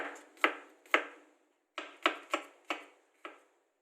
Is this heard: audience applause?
no